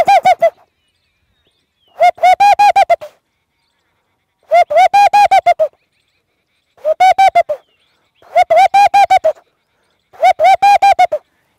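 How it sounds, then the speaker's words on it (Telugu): A bird locally called chinna belagada gives repeated bursts of rapid, nasal honking notes, six clear phrases spaced about two seconds apart, loud and close against silence. "చిన్న బెలగాడ అంటారు దీన్ని."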